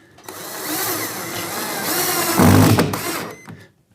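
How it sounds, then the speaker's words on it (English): A power drill drives screws up into a ceiling through a curtain track bracket for a bay window, a close whirring buzz that rises in load and pitch before cutting off. "now we're going to just drive the screws directly up into the ceiling through the bracket"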